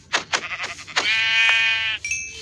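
Lamb bleating in Minecraft Pocket Edition: a few short wavering bleats followed by a longer sustained bleat, loud and close, with no talk.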